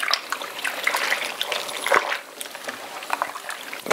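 Beef sauce pours into a pot of onion venison stew, a close liquid trickle and glug lasting a few seconds, fairly loud with no talk over it.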